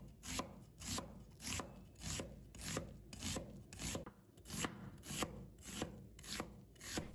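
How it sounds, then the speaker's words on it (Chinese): A knife slices half an onion into thin strips on a wooden board, giving a quick, even series of about a dozen close, crisp cuts, each with a short rasping drag. "再准备半个洋葱，把它切成细丝。"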